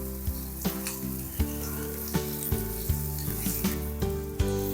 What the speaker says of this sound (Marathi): कांद्यासोबत हे तमालपत्र लवंग मिरे आणि मसाल्यामधील इलायची आहे तर ती पण छान तळून निघते